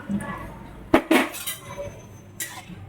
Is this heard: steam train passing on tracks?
no